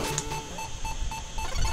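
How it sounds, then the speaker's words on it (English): Repeated short electronic beeps from the low-time warning in the Famicom game Pizza Pop!, pulsing steadily and loud over game music with no talking. "I love the beeping sound."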